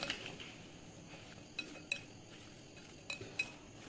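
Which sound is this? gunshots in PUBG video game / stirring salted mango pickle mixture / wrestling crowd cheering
stirring salted mango pickle mixture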